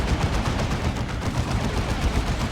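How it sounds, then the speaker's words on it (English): Rapid volleys of psycannon fire from a Purgation unit in Dawn of War 2 crackle continuously and loudly, a dense stream of gunshot-like bursts amid battle noise. "It is Psy Cannon time for the Purgation."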